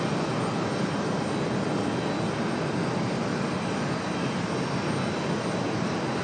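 A Delta airliner arriving from Boston at Raleigh-Durham International, its steady broadband jet roar sustained and fairly loud throughout, with no voices over it.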